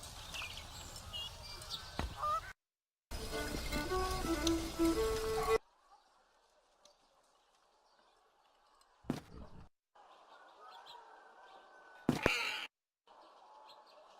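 Crows caw in the video game The Dark Eye: Chains of Satinav, scattered harsh calls over cut-up game ambience with abrupt silences between segments.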